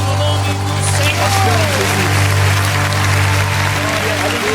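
Church congregation applauding during a worship service, steady dense clapping throughout with a sustained low hum and faint voices and music underneath.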